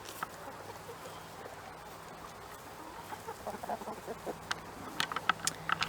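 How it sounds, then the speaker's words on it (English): Backyard chickens cluck softly and peck close by, a low busy rustle with sporadic sharper clucks growing more frequent toward the end. "I got chickens pecking my feet."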